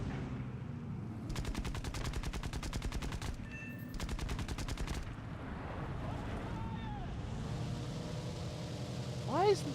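Aircraft machine guns fire in War Thunder in two long, rapid bursts of evenly spaced shots, loud and close over a droning engine.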